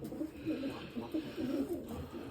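Breeding pigeons in a loft cooing close by, soft repeated low throaty coos in an irregular rhythm, fairly quiet.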